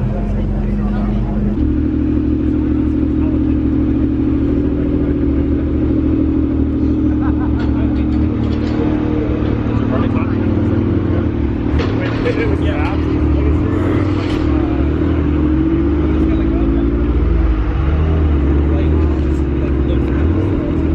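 Supercharged Jeep engine holding a loud, steady low rumble with some rising revs, running continuously with voices talking over it.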